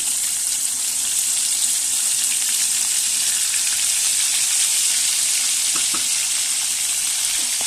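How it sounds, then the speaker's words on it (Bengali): Roast pieces fry two at a time in a pan, a loud, continuous crackling sizzle with a few brief clinks, no speech. "একসাথে 2 পিস করে দিয়ে আমরা ভাজবো।"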